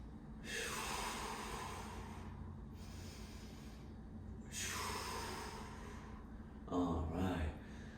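Slow, deep breaths during a back-bend stretch in a capoeira flexibility workout, two long airy inhale-exhale swells close to the microphone followed by a short rougher breath, with no talking.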